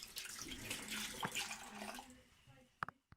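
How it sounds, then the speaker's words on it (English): Tap water runs steadily over basil leaves being rinsed at a kitchen sink, a continuous close splashing wash that stops near the end with a couple of sharp knocks. "Okay, now I have rinsed the basil"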